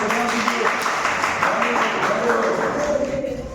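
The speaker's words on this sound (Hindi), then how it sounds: "ताली बजाएं" A classroom of mathematics students claps for a correct answer, a dense, fairly close burst of hands that carries on steadily for several seconds, with voices mixed in.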